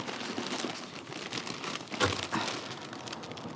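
Paper wrapping marked with the Hulu name crinkles steadily as it is pulled open around a Levi's limited edition jacket, a close, continuous rustle with one sharper crackle partway through.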